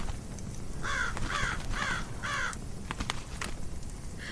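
A raven croaking four times in an even rhythm, harsh and moderately near, over a steady background hiss, followed by a few fainter, shorter calls.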